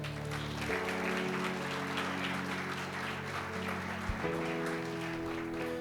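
Congregation applauding in a church service, steady broad clapping held under sustained organ or keyboard chords throughout.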